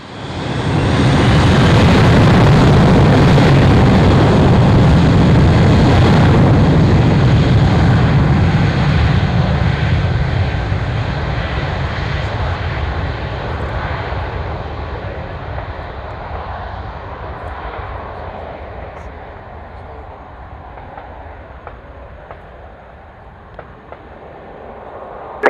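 NATO 30 jet aircraft takes off at an airshow, a loud roaring engine rumble building fast, then fading gradually into the distance over many seconds, no talk.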